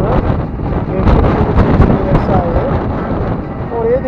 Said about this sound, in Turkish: Rüzgar tam karşıdan esiyor zaten.